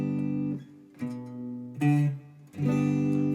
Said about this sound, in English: use quarter notes for the fill, so that means you'd only have 2 notes to create a fill